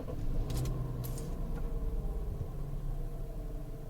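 A Peugeot 407 Coupe V6 with a cylinder 6 misfire runs just after starting, a steady low engine rumble with faint clicks early on.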